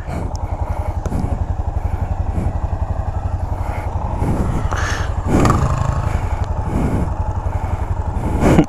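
Several motorcycles arriving at night, a loud, close, steady pulsing engine rumble with revving swells throughout.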